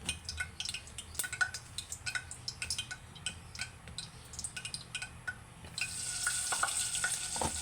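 Cooking oil heating in a pan, soft crackles and ticking pops that build into a steady brighter sizzle near the end, close and without talk.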